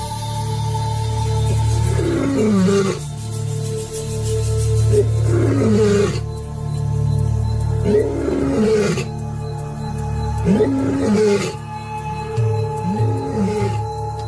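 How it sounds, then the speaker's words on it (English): Male lions of a superpride roar at night, a loud, close series of deep grunting roars that repeats in bouts every few seconds over a low background hum. "Their roars can travel almost 5 kilometers."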